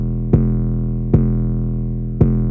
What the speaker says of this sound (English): we now have an even more boosted 808.